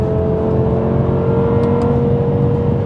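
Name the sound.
V10 car exhaust note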